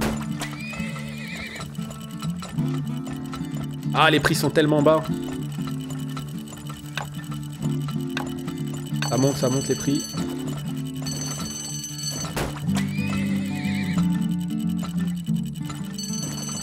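Horses whinny several times in the oil-drilling game Turmoil over a looping music bed and soft clip-clop hooves, with bright game chimes and someone talking throughout.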